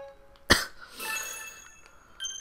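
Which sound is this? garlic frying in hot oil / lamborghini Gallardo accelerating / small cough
small cough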